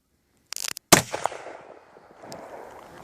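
A rifle is test-fired at Tannerite on a frozen pond, a few quick faint clicks followed by one sharp, loud report that rings out and slowly dies away outdoors.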